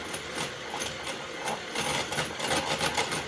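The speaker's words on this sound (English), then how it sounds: "listen to the whirring of the beaters" Beaters of an antique electric mixer whir in a batter for golden griddle cakes, a faint, fluttering mechanical buzz with uneven pulses that grows busier toward the end, no talking.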